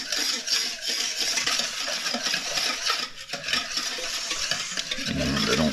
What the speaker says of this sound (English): half a cup of brown sugar, and we just stir until that is dissolved